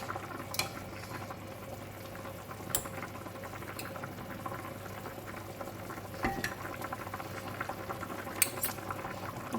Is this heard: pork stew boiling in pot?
yes